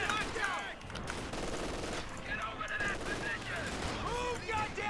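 Machine gun fire in the video game Company of Heroes 2 rattles in dense, overlapping bursts, mixed with shouted in-game soldier voices and battle noise.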